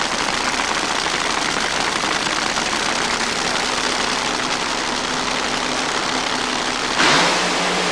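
Dragsters racing at a 1987 NHRA drag race, a loud, continuous engine roar that stays dense and steady throughout, shifting in tone near the end.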